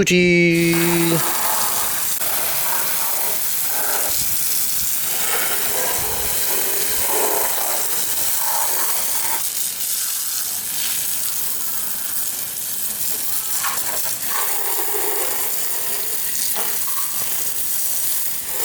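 Water sprays steadily over a Suzuki Satria FU fuel-injected GP Edition motorcycle during a wash, a loud continuous hiss with shifting splashes throughout, and a brief tone at the very start.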